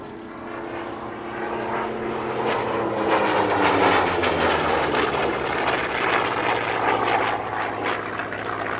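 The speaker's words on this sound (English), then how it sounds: "it's the turn of one of the most distinctive American fighters of the Second World War, the Corsair, diving in to start an absolutely tremendous display" A WWII American Corsair fighter dives during an airshow display at Paris-Villaroche, its piston engine roar swelling to a loud, sustained drone and easing slightly at the end, heard alone.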